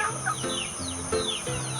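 Chickens clucking and calling close by, a few overlapping bird vocalizations in quick succession with a steady hum underneath.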